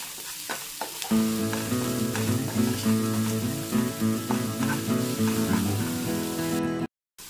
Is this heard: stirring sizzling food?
yes